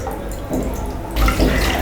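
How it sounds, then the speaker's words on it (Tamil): Milk is poured into a pan, a steady liquid stream that briefly pauses and then returns louder and fuller as the pouring resumes. "நம்ம இது எல்லா பாலையுமே நம்ம ஆட் பண்ணிக்கலாம்."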